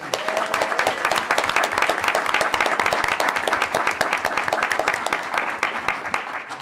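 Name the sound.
audience applause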